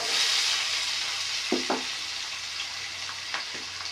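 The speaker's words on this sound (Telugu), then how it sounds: "ఇవి ఆయిల్లో మంచిగా ఫ్రై చేసుకుందాం, గోల్డెన్ కలర్ వచ్చేంత వరకు" One cup of onions fries in oil with bay leaf, shahi jeera, clove, cinnamon and cardamom, giving a steady hissing sizzle up close, broken by a couple of soft stirring knocks and scrapes.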